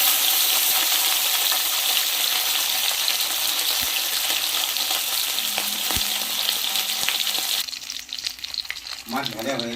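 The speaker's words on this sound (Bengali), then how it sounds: "তেল গরম হয়ে গেছে, এবার আমি মাছটা ভেজে নেব।" Koi fish frying in hot mustard oil in a karai, a loud continuous close sizzle that drops suddenly toward the end, followed by faint bubbling.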